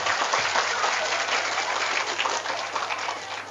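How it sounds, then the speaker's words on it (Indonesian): A village crowd at a Maulid Nabi gathering in Indonesia claps for a local benefactor, with a dense wash of applause that holds steady and tapers slightly over a few seconds under a low background hum. "Tepuk tangan."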